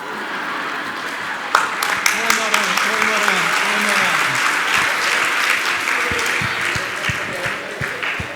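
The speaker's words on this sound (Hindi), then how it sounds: "कितना बढ़िया तालियां बजा रहे हो आप। तालियां अच्छे से बजाइए।" An audience at a religious discourse gathering claps in a sustained round of applause, dense and steady throughout, with a few sharper individual claps near the start.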